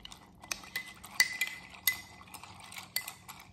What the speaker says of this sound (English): Okay, give that a little stir.